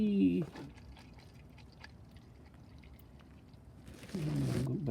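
Engine oil dripping from the drain plug opening of a 2024 Mazda CX-5 during a DIY oil change, a soft, faint liquid trickle under quiet background, with louder handling noise at the start and end.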